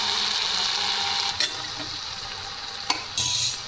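Okra (bhindi) frying in a pan while being stirred, a steady close sizzle with a few sharp scrapes of the spoon against the pan, no voices.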